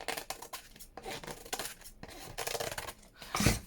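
Scissors snip and trim paper while making a ring-bound junk journal, a run of close, crisp cuts with brief pauses and a louder final snip near the end.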